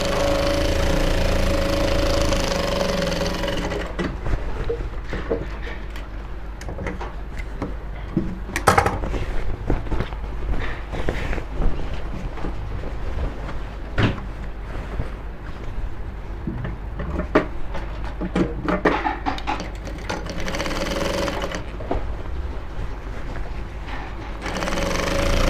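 A sewing machine stitches an Ankara fabric top with a steady, fast mechanical whir and rattle that runs almost continuously, with brief pauses and handling clicks.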